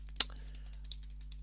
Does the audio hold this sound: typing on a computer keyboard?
yes